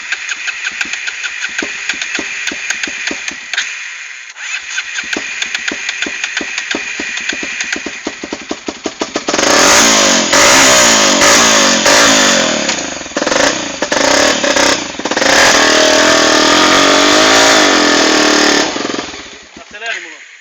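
A motorcycle engine starts and idles with a rapid, rough chug, then is revved hard and loud in repeated surging bursts. People talk over the engine noise.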